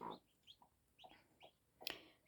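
A hen clucks in a few short bursts with pauses between, fairly close, ending in a sharper, louder squawk.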